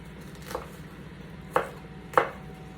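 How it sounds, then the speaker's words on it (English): A knife cutting down through an onion on a board, giving three separate chops, the later two sharper and louder, over a quiet room background. "Hold the onion tight in the other direction, like so, once you've sliced it, and then cut down and you'll get nice thin pieces."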